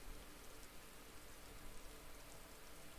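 Rain in the video game Disco Elysium, a steady dense patter of falling drops that fills the whole moment evenly at low volume, with no voices.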